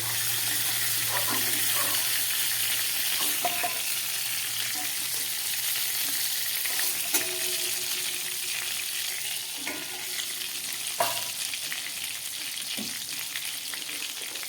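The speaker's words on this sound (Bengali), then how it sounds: "মাছটা আমার ভাজা হয়ে গেছে" Steady hissing sizzle of fish frying in hot oil, continuous and close, with occasional clinks and stirring noises and no speech.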